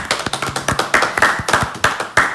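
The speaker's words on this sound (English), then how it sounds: "A clap for the ghost." A small group claps together, giving a quick run of sharp, loud, slightly uneven claps that keeps going for a couple of seconds, close up and with no talk over it.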